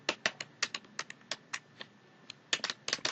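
Fingers typing on a computer keyboard, a quiet, close series of irregular clicky keystrokes with a short pause midway before a quicker burst.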